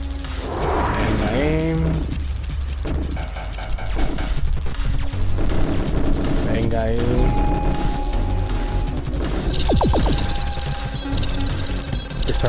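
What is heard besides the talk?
triple shot gunfire in video game Ultratron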